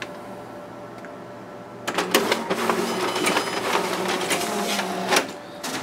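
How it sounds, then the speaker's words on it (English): A Xerox WorkCentre 7545 copier runs its document feeder and stapling finisher, starting after a quiet pause with a rapid series of mechanical clacks and whirs, then steady feeding and a final clunk, close and fairly loud. "Okay, there we have our document feeder working properly."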